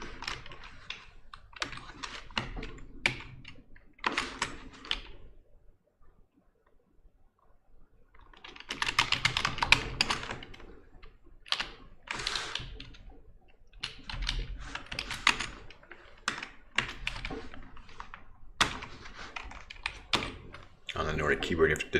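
Typing on a Nordic-layout computer keyboard comes in bursts of quick key clicks with pauses between, close and fairly quiet, while a person talks intermittently.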